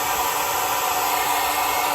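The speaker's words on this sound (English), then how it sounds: "I'm gonna borrow my sister's hair dryer and melt the glue" A hair dryer blows steadily at close range, heating the glue holding the connectors on a 2002 Chevy S10's 4L60E 4x4 transmission, a continuous broadband whoosh with no pauses.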